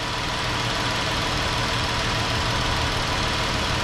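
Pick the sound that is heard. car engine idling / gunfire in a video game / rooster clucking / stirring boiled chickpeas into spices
car engine idling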